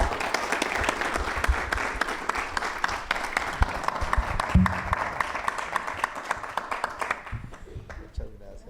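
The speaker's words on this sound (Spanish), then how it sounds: "Un aplauso, por favor" Audience applause for a speaker named Mendoza at a talk on crime fiction, a steady wash of many hands clapping with some voices mixed in, fading out near the end.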